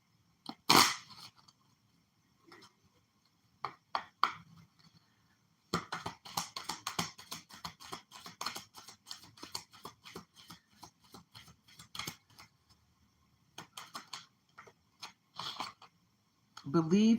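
Quick bursts of riffling tarot card shuffles, a short one near the start then a long crackling run, followed by a few scattered taps and flicks.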